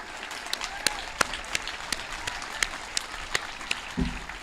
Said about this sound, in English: Join me in a round of applause for this group.